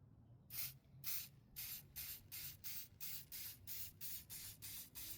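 Spray paint is sprayed over a taped design on an old rasp in a quick series of about a dozen short, close hissing bursts, evenly spaced.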